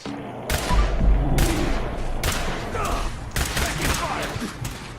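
Fallout 4 combat gunfire, with repeated loud bursts of shots in rapid clusters, sharp cracks rising over a busy rumbling background.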